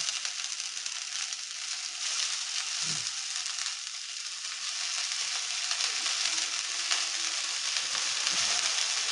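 Chopped note shak greens fry in spiced tempering oil with a strong, continuous sizzle and hiss, plus a couple of soft stirring thumps.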